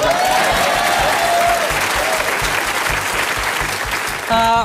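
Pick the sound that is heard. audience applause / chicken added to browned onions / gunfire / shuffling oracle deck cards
audience applause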